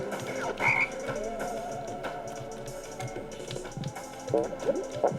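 Frogs croaking at the bottom of a cave level in the video game Pekka Kana 2, a dense ongoing chorus of croaks over dripping water, with someone talking over it throughout.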